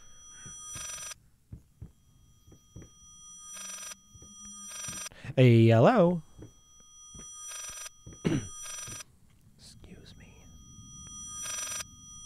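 Strange, distorted telephone ring in the horror video game Layers of Fear, repeating in short bursts amid thumps and a loud vocal outburst, with a person talking over it.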